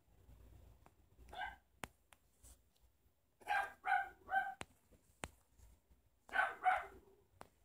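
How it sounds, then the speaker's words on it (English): A dog barks in the background in short bursts, two or three quick barks at a time in separated groups, fairly faint, with a few sharp clicks between them. "the dog barking in the background"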